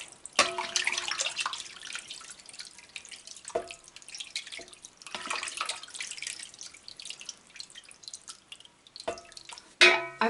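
Whey being drained off sheep cheese curds for Gouda: steady wet trickling and splashing with intermittent louder pours, close and fairly loud, no speech.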